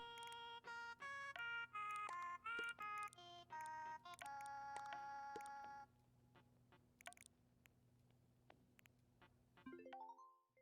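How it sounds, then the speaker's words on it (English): A cheerful electronic phone ringtone from the Animal Crossing: New Horizons video game plays as a sequence of bright, tonal beeps in quick melodic bursts, then stops, with a few faint clicks and a rising chime at the end. "The phone! It's like, grab the phone!"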